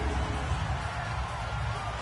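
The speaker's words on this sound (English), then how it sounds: "The crowd is amped up" Stadium crowd roaring after a touchdown at an RFL football game between the Salt Lake City Elks and the Austin Desperados, a dense, steady wash of cheering heard from a distance.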